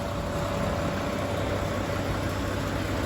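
A Japan-surplus Fuso Fighter truck with a fully electronic 6M60 engine runs with a steady, even hum and broad noise, continuous throughout with no talk.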